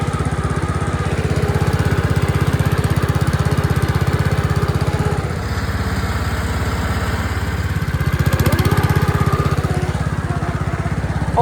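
Utility lawn mower fitted with a grass bagger drives steadily, its engine droning loudly and continuously with a slight dip in the middle and no talk.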